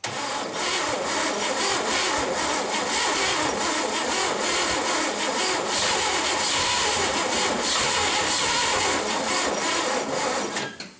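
A 1970 International 1200 truck engine that sat for 30 years, cranking steadily on a low battery for about eleven seconds with a dense, continuous churning roar and nearly catching, close and loud, with no talking.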